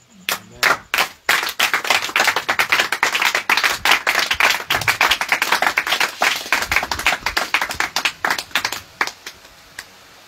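A church congregation in Maroua, Cameroon claps together to acclaim the Lord: dense, loud, rapid handclapping that carries on steadily for about ten seconds, then thins out into scattered claps near the end.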